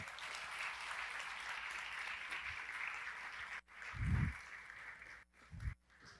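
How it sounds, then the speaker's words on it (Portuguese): An audience at a heritage and memory talk gives a steady round of applause for about three and a half seconds, then it stops and a nearby voice begins speaking. "Uma salva de palmas"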